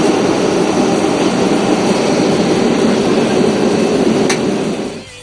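Airliner jet engine roaring steadily at an airport after a flight from Pittsburgh to Miami, a loud broadband rush held throughout before dropping off abruptly at the end.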